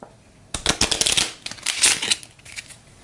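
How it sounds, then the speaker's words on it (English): Close-up shuffling of the Mythos card deck during a Cthulhu: Death May Die board game, two quick bursts of riffled, rattling cards in a row, alone without talk. "I think we can give it one more shuffle."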